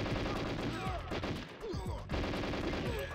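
Enemy gunfire in the N64 game GoldenEye 007 comes as dense rapid bursts of shots, mixed with other game sounds, briefly dipping before the shooting resumes.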